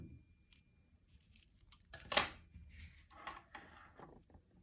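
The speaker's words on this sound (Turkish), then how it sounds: "Bir tık daha kestim burayı." Scissors snipping material for a handmade crocheted pearl daisy hair clip, several quiet close cuts with one sharper snip in the middle, amid soft handling sounds.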